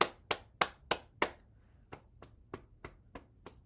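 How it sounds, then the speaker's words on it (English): Ten sharp hand claps in a steady rhythm, the first five loud and close, the rest softer, with a short gap between the two groups. "Clap your hands."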